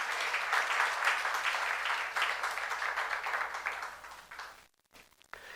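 A church youth-service congregation claps steadily for several seconds during a sermon, the dense applause thinning and dying away near the end.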